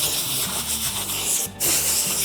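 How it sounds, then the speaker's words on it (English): A compressed-air blow nozzle hisses loudly and continuously while cleaning automotive drum brakes, a broadband blast that briefly cuts out and then resumes, close and steady. "A little bit of air compressor action here."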